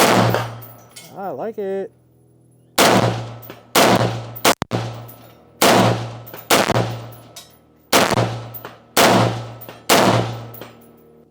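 A gun with an upgraded Rize Armament trigger fires about eight loud, sharp shots, spaced roughly a second apart with ringing decays. A brief spoken remark comes before the shooting.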